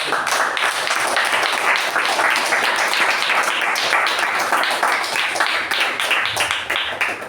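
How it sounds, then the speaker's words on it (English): Sustained applause from a crowd, dense clapping filling the whole stretch at steady loudness with no break. "Let's give a round of applause on this."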